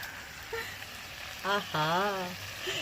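Beetroot and shrimp curry sautéing in a pan with beet juice and coriander leaves, a steady soft sizzle running throughout, with brief tonal voice-like sounds rising over it midway.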